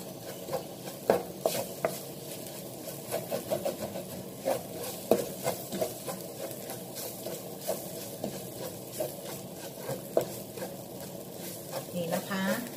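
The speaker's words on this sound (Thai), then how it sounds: "จะผัดให้เครื่องแกงแห้งลงหน่อยนึงนะคะ" Hang Le curry paste being stir-fried in a pot, with a soft continuous sizzle broken by repeated scraping and clinking strokes of a spatula against the pot, while someone talks over the cooking.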